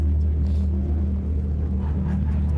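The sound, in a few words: fake engine sound from an electric car's speakers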